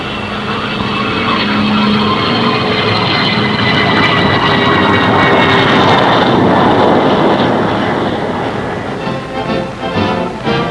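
A single-engine Navy Banshee jet fighter roars loudly overhead as it approaches its home base, a sustained broadband engine rush that swells and then begins to fade toward the end.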